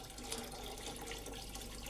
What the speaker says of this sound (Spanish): Estoy echando agua porque tiene que llegar,